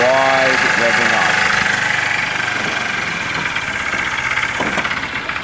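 Tamoretti Retro motorcycle engine running close by, its revs rising and holding steady, with a voice speaking over it throughout.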